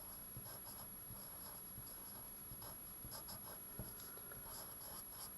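A pen writing a title on paper, faint scratchy strokes coming in short irregular bursts in a quiet room.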